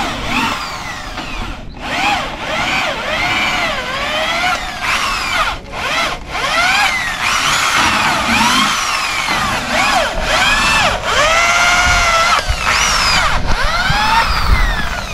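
Handheld drill boring a hole, not a drill press, with a loud continuous whine that rises and falls in repeated sweeping pitch arcs as the bit bites, pausing briefly a few times, with no talk.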